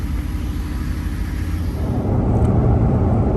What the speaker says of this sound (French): Les voitures chauffent tranquillement.